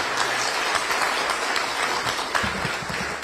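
Applause in the Polish Sejm for Adam, steady dense clapping filling the chamber throughout, with a few louder claps and some low murmuring toward the end.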